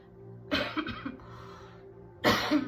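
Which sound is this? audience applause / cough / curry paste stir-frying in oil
cough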